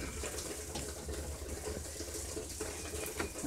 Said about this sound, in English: Give it a good douse of water to moisten the plant and the dirt.